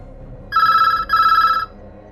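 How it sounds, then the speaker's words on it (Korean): Telephone bell ringing an incoming call, two clear electronic rings in succession, the second longer, over a faint low background hum. "경찰서에 익명의 제보 전화가 걸려왔습니다."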